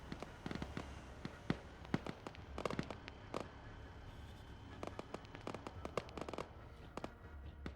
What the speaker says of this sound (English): Hear that BTR opening up as well. Thump, thump, thump, cutting through all of the noise.